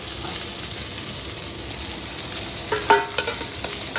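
Fish stirred into half-fried onions in a home kitchen pan, giving a steady close sizzle with soft scraping, plus a brief clink near the end.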